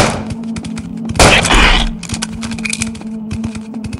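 Bursts of gunfire in the video game Death Park 2, with a dense loud rattle of shots in the middle among scattered lighter clicks and thuds.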